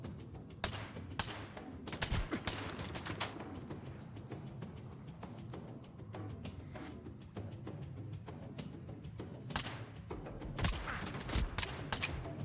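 Gunfire in STALKER 2, with dense, rapid shots and scattered bursts continuing throughout, sharp cracks over a busy rumbling combat background, moderately close and without speech.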